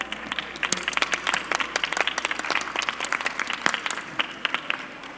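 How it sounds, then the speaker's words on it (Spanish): Audience at the Recrea Academy 2021 congress applauding the participants, a steady burst of many hands clapping close by, dense and continuous, with no talk over it. "les pido un caluroso aplauso a nuestros participantes"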